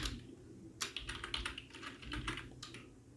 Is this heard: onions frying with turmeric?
no